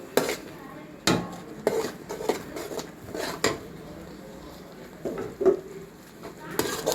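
Spice masala with mustard seeds and pepper is stir-roasted in a pan, giving irregular scraping and clinking strokes of a spoon against the metal over a faint, low sizzle.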